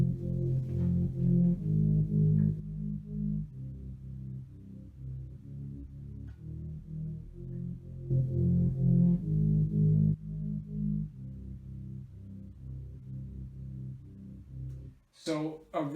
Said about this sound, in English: And the bass line sounds like this.